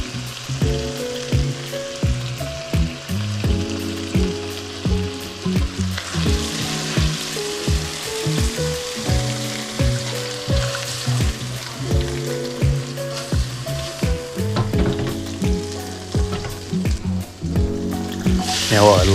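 Prawns fry in a hot pan with a steady, busy sizzle that holds throughout, over tuneful background music.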